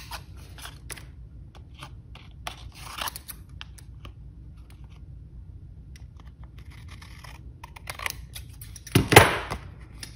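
Non-paper scissors trim excess paper from the back of a handmade sunray greeting card; quiet snips and paper handling run through, ending in a louder close burst of cutting or crinkling near the end.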